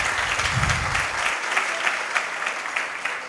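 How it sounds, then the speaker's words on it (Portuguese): An audience at an organic agriculture congress applauds Professor Ulrich Köpke, a full, sustained round of clapping that stays loud and even throughout, with a low voice briefly underneath at the start. "uma salva de palmas"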